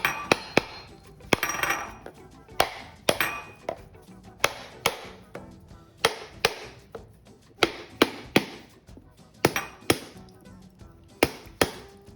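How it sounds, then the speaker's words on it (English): Repeated sharp cracks of a knife spine striking a coconut, about twenty evenly spaced hits over twelve seconds, close and crisp, each with a brief ringing tail, no talking. "I'm going to use the back of the knife to pop open the coconut by hitting it alongside that line all around until it cracks open"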